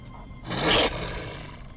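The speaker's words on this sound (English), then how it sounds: "Hear me roar" A single short, swelling roar rises to a loud peak and cuts off, leaving a lingering low rumble.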